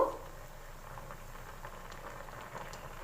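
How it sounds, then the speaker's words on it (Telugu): A brinjal, onion, green chilli and peas curry simmering in a pot, giving a steady, soft bubbling and popping hiss that runs evenly throughout. "వంకాయలు, ఉల్లిపాయలు, పచ్చిమిరకాయలు, బఠానీలు వేసిన తర్వాత ఇలా ఉడుకుతుంది కదా 5 నిమిషాలకి"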